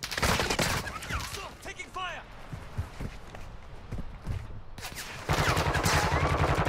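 Incoming gunfire from another squad in a multiplayer shooter, bursts of rapid shots at the start and again near the end, with footsteps and movement noise between.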